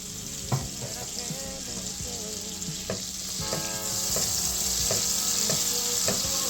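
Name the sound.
butter and olive oil sizzling in a hot pan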